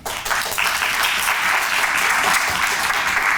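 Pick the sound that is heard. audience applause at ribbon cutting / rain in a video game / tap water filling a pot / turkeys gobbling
audience applause at ribbon cutting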